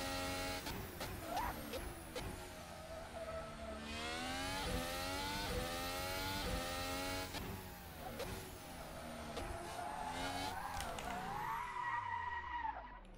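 Formula car screaming flat out at the Hungarian Grand Prix in F1 2019, a loud continuous high-revving engine whine with rising and falling gear shifts and tyre squeal through the corners, no talk over it.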